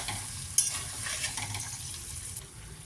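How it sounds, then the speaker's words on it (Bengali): Spice paste with turmeric powder frying in oil while being stirred for a vegetarian bottle gourd greens and poppy seed dish, a steady close sizzle with soft scraping stirs and one brief clink. "হলুদ গুঁড়ো, ভালো করে মশলাটা কষিয়ে নিতে হবে।"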